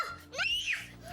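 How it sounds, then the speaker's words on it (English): A young child lets out a short, high-pitched rising scream indoors, close and fairly loud, lasting about a second. "Oh, here comes the scream."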